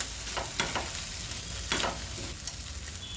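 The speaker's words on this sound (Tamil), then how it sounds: "நல்லா வதக்கி லேசாக வதங்கினதுக்கப்புறம் தக்காளியை போட்டுக்கலாம்" Onions, garlic and tomatoes sauté in a hot pan for red chutney, a steady sizzle and crackle broken by a few louder stirring scrapes, close up with no talking.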